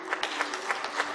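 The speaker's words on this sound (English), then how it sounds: "Let's give them a clap" Audience clapping for panelists at an oral health panel discussion, a soft, fairly quiet patter with a few louder individual claps spaced through it over a steady room hum.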